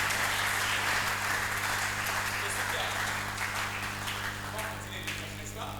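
A church congregation applauds the Lord in a bilingual French-Portuguese service, a steady crowd of clapping over a sustained low hum, softening toward the end.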